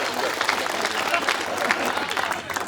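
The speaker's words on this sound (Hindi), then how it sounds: "तो एक बार ताली बजाओ थोड़ी सी" An audience at a Hindi comic poetry show claps steadily, a dense, sustained round of applause from a crowd filling the whole moment.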